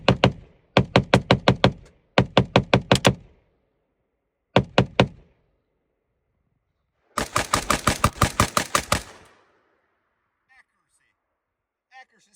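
A WBP Jack AK rifle fires at steel plates outdoors in several rapid strings of sharp, loud shots, with clean silences between groups and a longer burst near the end, then quiet.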